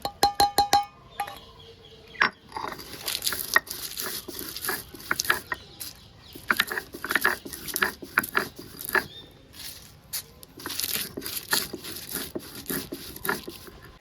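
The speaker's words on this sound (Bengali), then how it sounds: "ভাজা মশলাটা বেটে নেব" Fried spices, bay leaf, dried chilli, cumin, coriander and garam masala, are ground on a grinding stone, with rough scraping strokes and scattered clinks close by, alone, with no voices.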